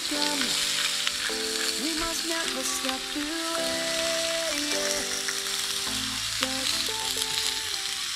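Steak sears in a hot pan at a camp cook-out, a steady loud sizzle and spatter running throughout with no talking, overlaid by sustained tonal hum in the background.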